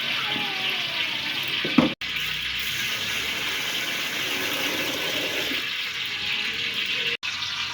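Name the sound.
rice being washed in water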